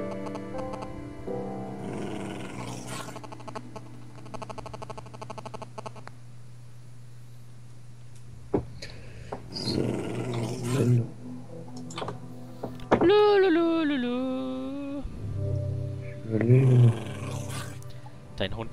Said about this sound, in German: Dein Hund, der macht Geräusche, ne? Das ist voll nervig.